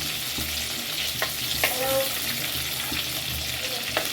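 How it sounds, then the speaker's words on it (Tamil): Onion and green chili sizzling in a hot pan for Tamil-style fish curry, a steady close frying hiss with occasional scrapes of stirring and faint clinks, no talk over it. "வெங்காயம் போட்டாச்சு பச்சை மிளகாய் போட்டாச்சு"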